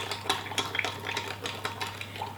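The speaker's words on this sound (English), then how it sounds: "So stir this round" Yeast being stirred round into warm milk for hot cross buns: a spoon clinks and taps rhythmically against a bowl, a quick steady series of light knocks up close over a low hum.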